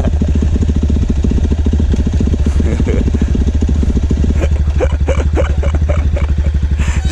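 An off-road trail motorcycle engine runs close by with a loud, steady thumping idle, then shifts into a rougher, clattering rhythm as it keeps chugging.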